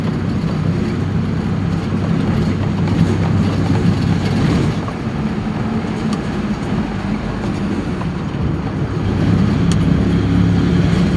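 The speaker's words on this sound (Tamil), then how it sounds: "டிராஃபிக்கே வந்துட்டோம்." Road traffic rumbles steadily on a busy road, a continuous low engine drone from nearby vehicles with no voices.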